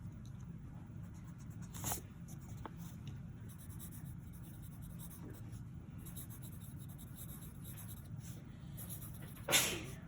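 A brief, sharp sneeze bursts out near the end, over a steady low hum and the faint scratch of writing.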